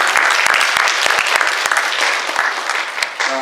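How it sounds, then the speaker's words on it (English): Enthusiastic clapping from a seated audience at a candidate forum in a church hall, loud and close, a thick continuous patter of hands that thins slightly toward the end. "Give a round of applause."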